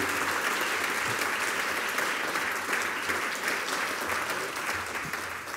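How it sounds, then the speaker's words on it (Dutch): Sustained applause from a large audience at a Dutch gathering marking sixty years of Turkish labour migration, thick and even clapping from a full hall that holds steady and fades slightly at the end, with no speech. "ik wil graag van jullie de grote applaus van die mensen"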